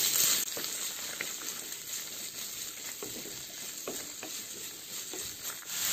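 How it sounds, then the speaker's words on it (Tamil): Chopped chayote sautés with dried red chillies and garlic, a steady hot sizzle with soft scraping and clicking as a spatula stirs the pan. "கட் பண்ணி வச்சுருக்க சவுச்சவ் சேர்த்துக்கங்க. சேர்த்து இதை நல்லா வதக்கிக்கங்க."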